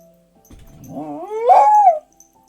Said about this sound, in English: Don't go out in the garden barking.